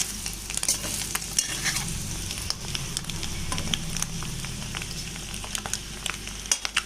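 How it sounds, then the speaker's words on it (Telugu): Eggs frying in oil until golden for an egg masala curry, a busy close sizzle with frequent crackling pops and repeated scraping stirs of a spatula against the pan, heard alone without speech. "ఇలా ఎగ్స్ని గోల్డెన్ కలర్ వచ్చేంత వరకు ఆయిల్లో ఫ్రై చేస్తూ ఉండాలి"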